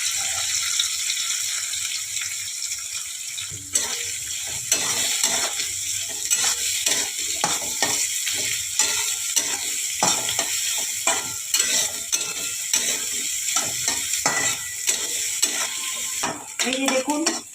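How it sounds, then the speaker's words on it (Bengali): Raw chickpeas frying and being stirred in a pan for a Bengali kochur loti dish, with a steady hiss and repeated scraping, clattering spatula strokes, close and alone without talk. "কাঁচা ছোলাগুলো একটু ভাজা ভাজা করে নেব।"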